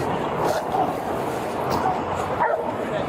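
A dog barks and yelps repeatedly in body cam footage of a police scene, the sharp barks standing out over a continuous noisy background at moderate distance.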